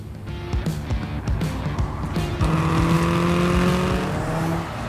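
A 530 hp Subaru rally car with anti-lag switched on in turbo mode accelerating hard, engine note rising through loud revving pulls with popping bursts, heard close from inside the car throughout.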